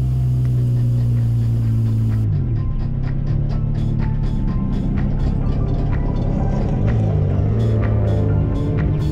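A time attack race car with shot rear brakes runs on a circuit, its engine droning loudly and shifting pitch, with repeated sharp metallic brake squeals and clicks scattered over the steady close-up rumble.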